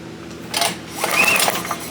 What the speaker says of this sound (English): we'll give her a couple of pulls and see if she got spark